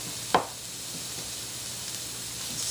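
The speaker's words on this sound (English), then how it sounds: "I'm going to add that garlic" Garlic added to onions in a hot skillet, a steady close sizzle hissing throughout, with a brief clatter as it drops in near the start.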